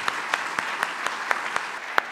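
Applause from the audience at the Sabancı short film competition awards ceremony: a thin, steady patter of claps with sharper individual smacks about every quarter second, moderately quiet and with no voices.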